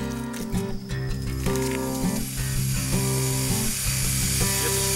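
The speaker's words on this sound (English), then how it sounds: "Just starting the beginning of the polishing process, starting with the 50 grit." Concrete countertop being polished with a 50 grit pad, a loud continuous whining grind with a tonal motor drone and shifting pitch as the pad moves, close up.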